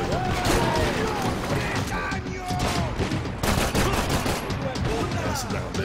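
Dense, sustained gunfire from the PC game Max Payne 3, rapid shots running continuously and loud close up, with game music and effects mixed underneath.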